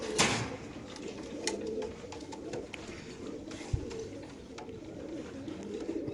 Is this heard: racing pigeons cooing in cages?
yes